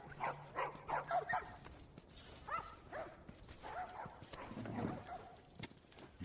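Dogs bark in The Last of Us video game, several short faint barks and yips scattered over a busy ambient background of footsteps and shuffling.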